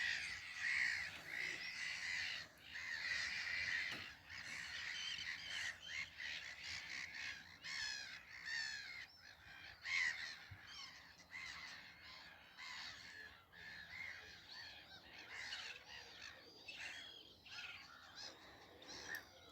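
Black-headed gulls and common terns call from a busy breeding colony on a raft at Lea Farm, many overlapping harsh cries and chattering notes heard at a distance, fairly faint but continuous throughout.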